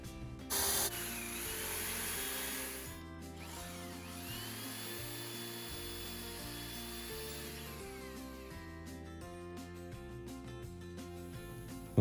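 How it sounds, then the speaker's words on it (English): An 8mm spade bit bores holes in wood for dowels, a steady whirring drill drone lasting several seconds at moderate level, with a brief sharper burst near the start and no talking. "I'm going to use my 8mm spade bit to drill holes for the wood dowels"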